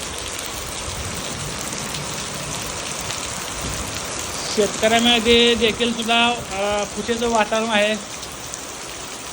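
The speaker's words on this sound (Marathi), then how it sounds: "तुम्ही बघू शकता एकदम तुफानी पाऊस." Heavy rain pours in Mohol, Maharashtra, as a dense, steady hiss of rain on surfaces; partway through, someone speaks over the downpour.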